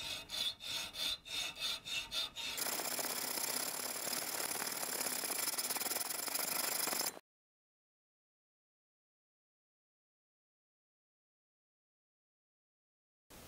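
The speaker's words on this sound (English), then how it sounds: "we recommend, at least for this top part, to use a saw here, and you will much faster be able to remove a big part of the area" A hand saw cuts through the top part of a modified camera rail, starting with a few separate strokes and then settling into steady, close rasping for several seconds before falling silent.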